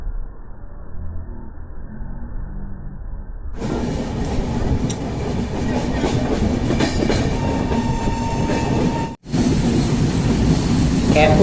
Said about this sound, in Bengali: এখন ট্রেন পাস করছে ফারাক্কা ব্রিজের ওপর দিয়ে।